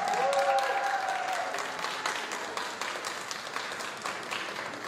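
A press conference crowd applauds steadily, moderately loud, with a voice briefly audible over the clapping at the start.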